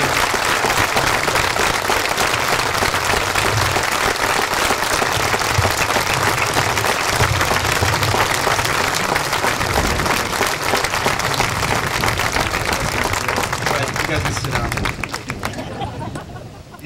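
A Memorial Day remembrance audience gives sustained, loud applause, a thick wash of clapping with faint crowd murmur underneath, continuing for many seconds before tapering off at the end.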